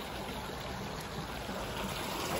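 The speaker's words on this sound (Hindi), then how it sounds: "यहाँ से भी बस आगे फसलों को पानी लग रहा है" Water from a village tube well in Pakistan pouring steadily onto crop fields, a continuous broad rushing and gushing flow at close range with no pauses.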